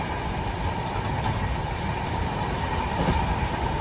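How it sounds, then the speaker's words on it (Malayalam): The Vivek Express, on its Dibrugarh to Kanniyakumari run, rolls along beside Chilika lake, a steady loud rumble of carriages and wheels on track with faint clicks, heard from on board. "അങ്ങനെ ഇതാ ചിലിക്ക തടാകത്തിന്റെ ഭാഗത്തൂടെ ട്രെയിനിൽ യാത്ര ചെയ്യുകയാണ്"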